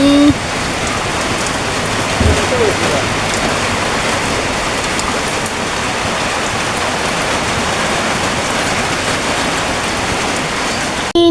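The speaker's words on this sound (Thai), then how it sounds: "ตอนนี้ฝนกับกำลังตก" Rain falls steadily and heavily outdoors, a dense, continuous hiss of drops hitting surfaces that stays loud and even throughout.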